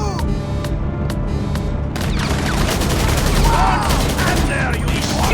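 Rapid bursts of automatic gunfire crack out in a GTA Online shootout, with sharp repeated shots stacking into dense volleys, growing busier and louder partway through.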